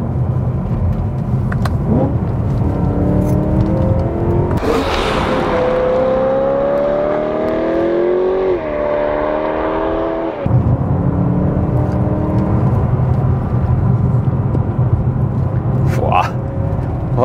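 A large, fairly heavy car accelerating hard, its engine note rising through the gears, then a sudden drop to engine braking and a steady cruising rumble, with someone speaking Dutch throughout.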